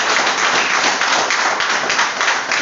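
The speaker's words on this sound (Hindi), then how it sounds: "एक बार जोरदार ताली बन दीजिए" Dense, steady clapping from an audience at a parents' meeting fills the whole stretch, loud and close with no gaps and no talk over it.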